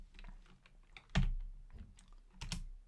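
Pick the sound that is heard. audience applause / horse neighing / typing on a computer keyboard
typing on a computer keyboard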